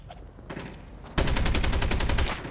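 Gunfire in Call of Duty Mobile: after a quieter stretch of game sound, a rapid burst of automatic fire starts abruptly and runs loud and steady for over a second before stopping.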